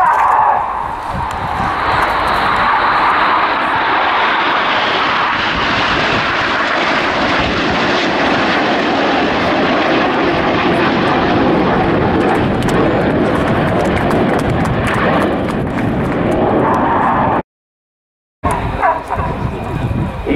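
Red Arrows jets and a Tornado jet roaring past at the RIAT 2016 airshow, a loud, sustained sweep of engine noise that swells and fades across the whole stretch before cutting out briefly near the end, with faint commentary beneath.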